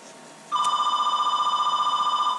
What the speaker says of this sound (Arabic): صوت الفاكس كالعادة